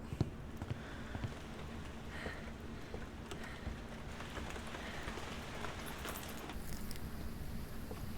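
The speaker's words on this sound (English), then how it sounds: "I love how the rain isn't as loud as it is outside as it is inside" Steady rain from indoors in the Phasmophobia game, a continuous soft hiss and patter heard muffled through walls at an even, low level throughout, with no talk.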